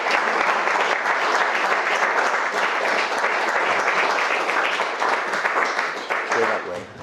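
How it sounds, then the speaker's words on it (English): Wedding guests applaud the newly married couple in a dense, sustained burst of clapping that fills the room for several seconds before tapering slightly at the end, with some faint voices mixed in. "Give them a great applause"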